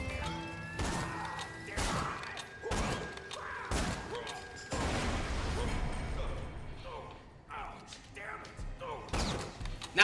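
Jacobs sniper rifle shots in a video game, a run of loud, sharp booming cracks at irregular intervals, each followed by a short tail, with speech running between them.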